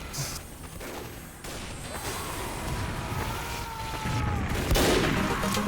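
Gunfire during a sniper duel in Team Fortress 2, with shots and booming reports over steady game background noise, growing louder toward the end, with no speech.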